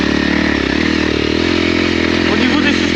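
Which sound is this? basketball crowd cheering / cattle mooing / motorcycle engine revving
motorcycle engine revving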